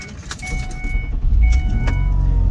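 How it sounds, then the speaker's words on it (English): A car engine rumbles low and steady right after being started, close and loud, with a few brief chime-like tones and clicks from the cabin. "All right, so the car is on."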